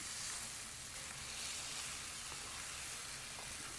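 Boiled pasta being mixed into crab sauce in a pan, a steady faint sizzle and hiss with light stirring throughout.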